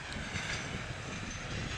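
A long train rolls past at Perryville, Maryland, a steady broadband rumble with faint rail clatter that holds at an even loudness throughout.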